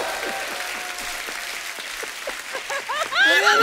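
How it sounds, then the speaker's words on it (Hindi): A studio audience at a comedy show applauds steadily, then voices break in near the end, talking and laughing loudly over the fading claps. "थार के लिए एक बार जोरदार ताली हो जाए"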